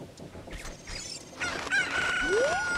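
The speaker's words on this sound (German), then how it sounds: "dann holen wir uns mal das Hühnchen, das hier hinter dem Zaun rumrennt" Chicken in the video game Zelda: Ocarina of Time crowing and squawking, close and fairly loud, a rising shrill call coming in near the end over busy game background sound.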